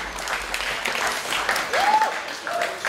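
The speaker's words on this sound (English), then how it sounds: "Give him a nice round of applause" Guests at a wedding reception clap warmly for the father of the bride after his speech, the applause moderately close and mixed with a few scattered voices and cheers.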